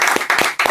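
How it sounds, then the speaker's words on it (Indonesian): A studio audience applauds a guest named Zoe with a brief burst of a few quick, close claps. "Tepuk tangan untuk Zoe."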